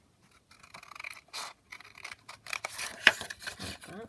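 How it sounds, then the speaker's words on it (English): Scissors snip through paper for a junk journal, giving a few scattered crisp cuts and rustles at close range, with one sharp snip standing out near the end; no talking. "I'll just cut this one down."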